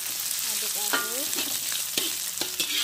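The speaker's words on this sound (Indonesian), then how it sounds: "aduk-aduk." Fried eggplant with chili is stirred in a pan, with a steady sizzle broken by sharp utensil clinks and scrapes against the pan, close and fairly loud, no talking.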